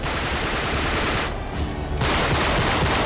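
Rapid bursts of enemy gunfire in the video game Uncharted 3, dense, loud and continuous across the whole moment, with a brief dip in the middle before the shooting resumes at full intensity.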